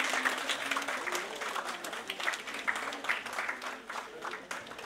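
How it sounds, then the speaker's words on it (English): A conference audience at a hospital neuro-nutrition event in Ludhiana claps steadily for a speaker, a dense, even round of applause lasting the whole stretch with no voices over it. "Please give it a huge round of applause."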